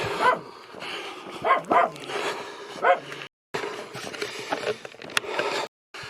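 Several dogs bark in short bursts at a middle distance in Ifonche, with some yips and whimpers in between over faint outdoor background.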